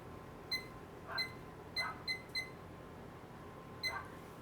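A kitchen timer being set, giving six short, bright electronic beeps at irregular intervals, several clustered close together, each accompanied by a soft button press, close and moderately quiet over faint room hum.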